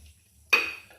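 Dishes and plates being washed give one sharp clattering clink midway, ringing briefly before fading back into near quiet.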